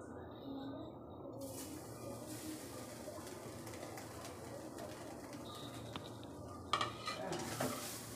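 Grated coconut frying in a pan over low heat for garlic chutney, with soft scraping and stirring clinks running steadily at close range and faint bird coos in the background.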